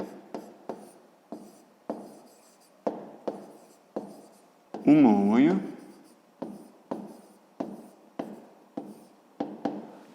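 Pen strokes write out a math equation for a fifth-grade exercise, in short, crisp, evenly spaced scratches close to the mic. A voice speaks briefly in the middle.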